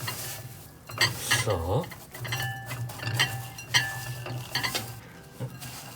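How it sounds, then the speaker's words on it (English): Food being coated in panko bread crumbs: scraping, stirring and clinking against a bowl, with rustling crumbs and a low steady hum behind, and a brief spoken word. "coat the panko bread crumbs"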